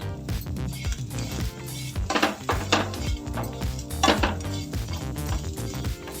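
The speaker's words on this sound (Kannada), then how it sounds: "ಚಕ್ಕೆ, ಲವಂಗ, ಸ್ವಲ್ಪ ಕಾಯಿ. ಎಲ್ಲ ಹಾಕಿ ಇದನ್ನು ಡ್ರೈ ಫ್ರೈ ಮಾಡಿ ಇಟ್ಕೊಳ್ಳೋಣ" Cinnamon, cloves and coconut dry frying in a pan, with a spatula clinking and scraping against the metal in irregular bursts, fairly close and with no talking.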